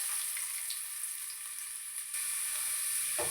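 Onions fry in hot oil for mutton thokku, a steady bright sizzle that runs unbroken and fairly close, with a faint clatter near the end and no speech.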